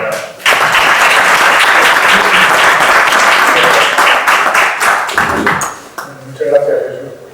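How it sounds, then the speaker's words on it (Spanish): Applause from the audience at a Cervantine lecture event in Mota del Cuervo, loud and sustained for several seconds, then thinning out as voices and a brief ringing tone come through. "Le ruego un aplauso para él"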